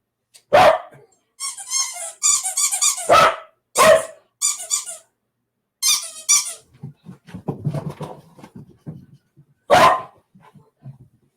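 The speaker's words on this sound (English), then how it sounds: "we are playing with the dog in the studio." A dog in a studio barks and yips in short bursts during play, loud and close, mixed with squeaky toy sounds and some low rustling between the barks.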